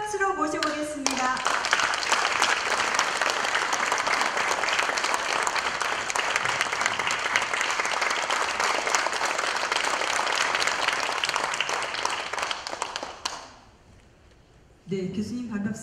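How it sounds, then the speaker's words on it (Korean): A room full of people at a book-launch celebration for a translated collection of classical Chinese-style poems by a woman poet applauds loudly to welcome the professor who translated it. The dense, steady clapping lasts about thirteen seconds, then stops abruptly. "시집 역주자 이성애 교수님을 큰 박수로 모셔보겠습니다."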